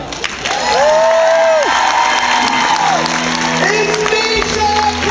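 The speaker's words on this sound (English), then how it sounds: "If you know who he is, please clap." Audience clapping and cheering from a live event crowd, a sustained wash of applause with whoops and shouts, loud and continuous throughout with tonal music-like lines over it.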